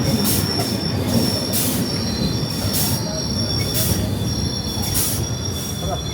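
The 22642 Shalimar Trivandrum Express brakes after an emergency chain pull near the Godavari river bridge. A steady, high metallic wheel squeal rides over a heavy rolling rumble, loud and continuous throughout.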